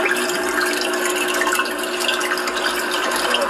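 Water pours steadily from a homemade freshwater aquarium skimmer, a continuous close splashing trickle with no voices.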